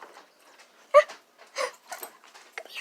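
A puppy whimpers with one brief, thin, high whine, surrounded by soft snuffling and breathing sounds, close by and indoors.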